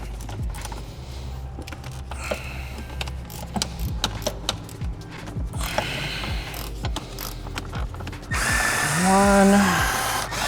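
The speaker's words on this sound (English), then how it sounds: "you're going to want to remove the 4 bolts on the side, 2 here, and the 3 up here" A power tool removes transmission mount bolts in a ratcheting, mechanical rattle, followed by a loud close whine rising and falling near the end, with a voice talking faintly at times.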